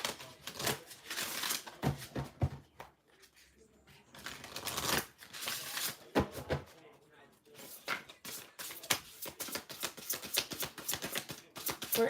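Tarot cards being shuffled in repeated bursts of crisp riffling and flapping, close and fairly loud, with brief pauses between passes and a voice speaking at times.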